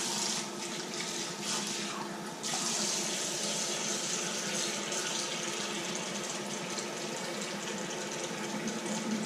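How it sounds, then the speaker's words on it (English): A bathroom sink tap runs steadily while someone rinses shaving lather off their face, a close, constant gush with brief splashy changes from the hands under the stream. "let me rinse off my face a sec"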